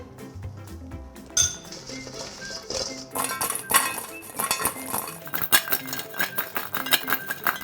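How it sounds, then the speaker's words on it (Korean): Fried pork back ribs are tossed with seasoning powder in a bowl, giving close, busy clinks and scrapes of utensils against the dish in irregular bursts that grow louder and denser partway through, with no talk. "이거를 여기다 넣고 버무려 주시면 한번 버무려 볼까요?"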